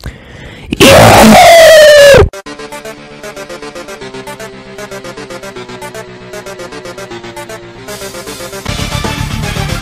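A loud, piercing scream erupts for about a second and a half, followed by steady electronic Minecraft game music with rapid repeating notes.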